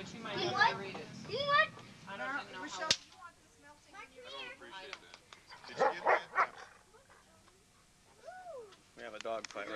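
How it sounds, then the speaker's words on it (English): Several dogs bark, yip and whimper in close, uneven bursts, sounding like a scuffle, with people's voices mixed in at times. "We have a dog fight right here."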